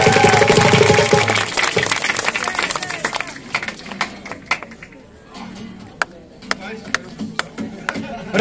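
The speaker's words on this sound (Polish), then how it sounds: "Wielkie brawa za 15!" Concert audience at the Sacrosong 2013 festival applauding a performance: a loud, dense burst of clapping for about three seconds that thins out into scattered individual claps.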